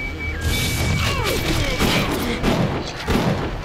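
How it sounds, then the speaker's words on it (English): Tommy gun firing in the BioShock video game, a dense run of gunfire and booming impacts under game noise, with a voice talking over parts of it. "Yo, this is a Tommy gun"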